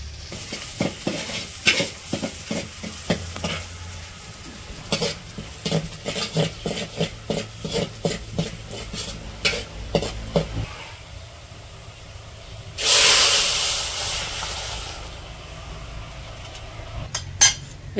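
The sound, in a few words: tempering dal with garlic and onion, sizzling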